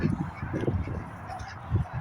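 Geese or ducks honk and squawk in repeated bursts at a farmyard with pigeons and chickens nearby, the calls fairly close and uneven in rhythm, with some faint voices in the background.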